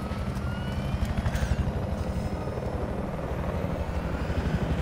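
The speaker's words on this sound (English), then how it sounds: "I'm just in the helicopter right now." A helicopter in the video game Battlefield, its rotor thumping in a steady, fast rhythm over a constant engine drone, close and loud throughout.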